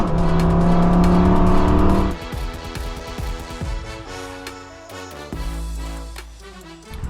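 A Foxbody Mustang with a T5 manual transmission revs hard, then drops sharply as the clutch goes in and picks back up through a quick speed shift, loud and close with a throaty engine note.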